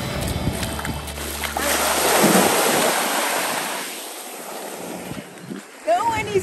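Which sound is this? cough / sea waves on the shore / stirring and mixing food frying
sea waves on the shore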